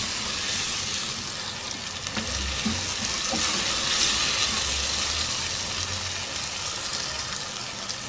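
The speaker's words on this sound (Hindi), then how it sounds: "इन सब्जियों को अच्छी तरह से फ्राई करेंगे 3-4 मिनट।" Mixed vegetables sizzling and frying in a hot pan for a Muharram niyaz dish, a steady dense crackle throughout with occasional stirring thumps, close and continuous with no talking.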